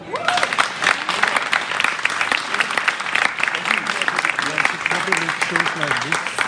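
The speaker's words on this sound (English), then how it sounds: "I would like you to clap a welcome each time afterwards" An audience at a media forum claps a welcome, sustained applause from a crowd throughout, with voices and speech mixed in beneath the clapping.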